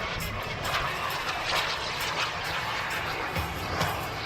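A model jet aircraft at an air show makes a fast pass, its turbine giving a steady rushing roar at moderate distance, with a constant broadband hiss throughout.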